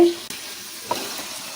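Marinated chicken frying in oil in a pan, stirred with a couple of brief scrapes over a soft continuous sizzle.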